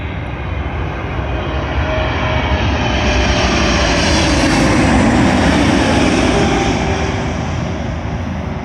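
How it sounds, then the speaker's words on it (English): An American Airlines Boeing 777 on a Miami service lands on runway 27L at London Heathrow, its jet engines a loud, steady broadband roar that swells slightly as it passes near and holds throughout. "Arriving in now is an American Airlines Boeing 777, working a service from Miami to London Heathrow."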